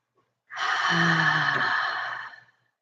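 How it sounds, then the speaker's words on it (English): A single long, breathy exhale during a breathing exercise, close and soft, swelling quickly and tapering away over about two seconds, with a faint voiced tone underneath. "Inhale, Exhale."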